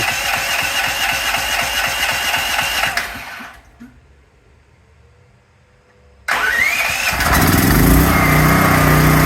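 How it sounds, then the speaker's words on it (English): A DuroMax 13000EH generator cranks on its electric starter in a loud, steady run, goes quiet for a couple of seconds, then cranks again and catches into a running engine roar. "then it'll automatically try to start. And it'll take it a couple of tries"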